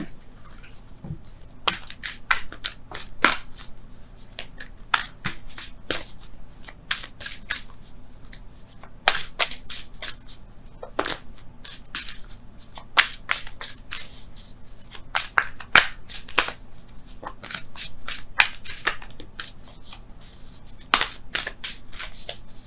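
Wisdom of the Oracle tarot cards are shuffled by hand in repeated quick riffling bursts of crisp card slaps and flutters, close and clear against a quiet room.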